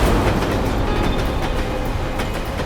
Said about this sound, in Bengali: আর ট্রেনের আওয়াজও শুনতে পেয়েছিলাম আমি